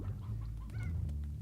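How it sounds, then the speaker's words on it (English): Chickens cluck steadily in the Slime Rancher game soundtrack, a low busy clucking over background music with a few brighter chirps. "Poor chickens being eaten."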